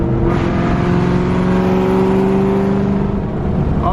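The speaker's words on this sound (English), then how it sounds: "Check these downshifts out." A Ford Mustang Mach 1 engine revs sharply through downshifts, loud and close, its pitch sweeping steadily in one sustained pull with no talk over it.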